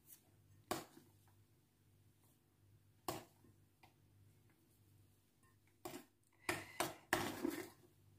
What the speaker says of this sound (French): tout simplement à l'aide d'une cuillère, je viens mettre la préparation au-dessus